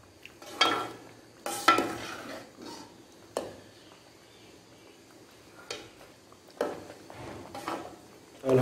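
Semolina roasting in a pan for suji halwa in a village kitchen, with a spoon scraping and stirring in several separate bursts against a quiet, faintly sizzling background, near and moderately loud.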